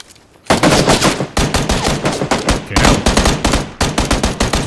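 Automatic gunfire from PlayerUnknown's Battlegrounds rattles out in loud, close bursts after a brief quiet start, with rapid shots packed together and short gaps between volleys.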